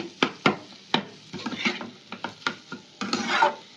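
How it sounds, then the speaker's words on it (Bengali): Boiled potato is stirred into sizzling masala in a frying pan, with repeated close scraping and knocking strokes in an uneven rhythm over a faint sizzle and no talk. "দেখো আলুটা দিয়ে আমি ভালো করে একটু কষিয়ে নিচ্ছি"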